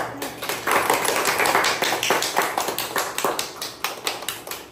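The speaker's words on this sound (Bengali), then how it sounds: "দিদা দাদু হাততালি দাও" Grandparents clapping their hands at a family gift-opening, a long run of quick, uneven claps, close and fairly loud, with a slight voice now and then beneath them.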